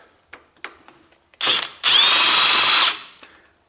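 Power drill spinning out a stuck bolt on a car starter motor, with a few light taps and clicks, then a short whir and a longer, steady, loud burst of drilling up close.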